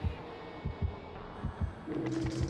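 A thudding horror-game heartbeat from Dead by Daylight pulses in low, regular double thumps at close range, with a steady hum underneath and a louder tone swelling toward the end.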